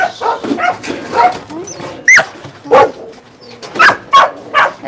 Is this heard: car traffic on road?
no